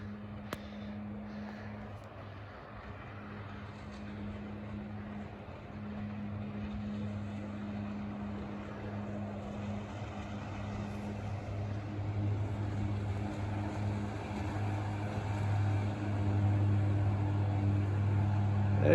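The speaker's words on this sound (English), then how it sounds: "Hear a boat coming." A boat's motor drones on a river, a low steady hum that swells gradually louder as it approaches from a distance, with no talk.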